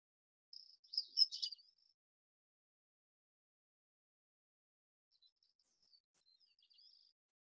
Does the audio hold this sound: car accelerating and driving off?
no